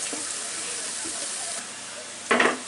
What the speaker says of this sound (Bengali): আমি এখানে 1/2 কাপ তেলে 1/2 কাপ পেঁয়াজ দিয়ে ভেজে নিচ্ছি